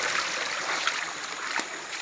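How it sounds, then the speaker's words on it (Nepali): Water flows at the source of a small irrigation channel used for planting fields, a steady, soft trickling rush with no other sounds. "खेत रोप्ने पानीको कुलोको मुहान"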